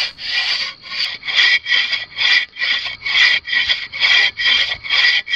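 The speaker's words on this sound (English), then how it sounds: "I'm going to use a saw to make the back cut." A 42-inch bow saw cuts the back cut through a standing tree during felling, with about a dozen steady, rasping back-and-forth strokes, close and loud, and no voices.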